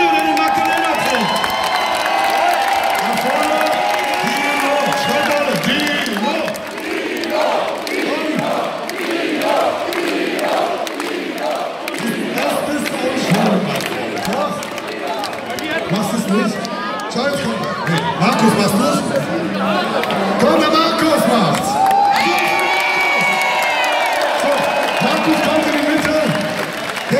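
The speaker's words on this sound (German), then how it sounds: "Applaus für Dino, der den Magdalena trägt." A large crowd at a rock concert roars, cheers and claps continuously and loudly, while a voice speaks over the noise.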